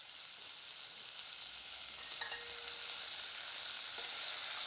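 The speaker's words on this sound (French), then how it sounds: "Je remue le tout bien." Beef sizzles steadily in a frying pan while being stirred, a soft, even hiss with a brief scrape near the middle. No one speaks.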